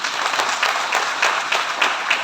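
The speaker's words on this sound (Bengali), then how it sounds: "তাই জন্য আপনাদের জন্য একটা হাততালি আমি চাই।" An audience of about 400 in a science city seminar hall claps at a health awareness program, a steady bed of many hands with rhythmic swells that recur about every half second.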